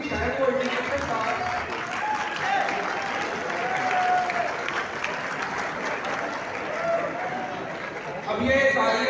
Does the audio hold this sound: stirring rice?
no